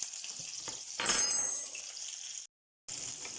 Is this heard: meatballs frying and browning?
yes